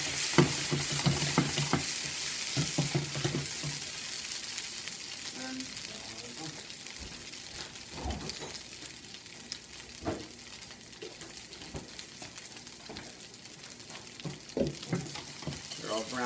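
Gnocchi with diced shallots frying in a pan, a steady broadband sizzle with occasional stirring clicks and scrapes, moderately close and continuous throughout.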